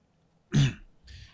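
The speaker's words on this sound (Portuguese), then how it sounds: "Vou dar uma pigarrinha." A person clears their throat once, a short, rough, close burst, followed by a fainter breathy sound a moment later.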